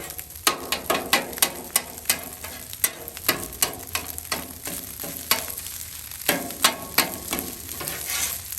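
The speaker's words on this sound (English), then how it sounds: "Now just chop them up with your handy dandy Blackstone spatula." Metal spatula chopping scrambled eggs on a Blackstone flat-top griddle, for fried rice: a quick, uneven run of sharp clacks and scrapes against the hot steel over a steady sizzle, close and fairly loud, no talk.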